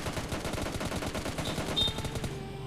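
Rapid close-range Thompson submachine gun fire in PUBG Mobile Lite rattles in a fast, steady automatic stream of sharp cracks, fairly faint and with no voices.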